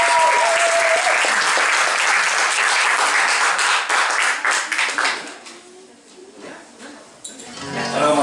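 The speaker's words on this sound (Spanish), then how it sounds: "Así que un fuerte aplauso para ustedes" Loud audience applause after a song at a live guitar band concert, dense clapping close to the microphone that fades over several seconds, leaving a guitar note and brief stray claps before a short swell at the end.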